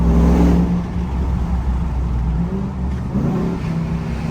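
Ram TRX Hellcat pickup engine revving hard in one loud, deep pull that swells at the start and then holds a rumbling roar, close by, with no talking.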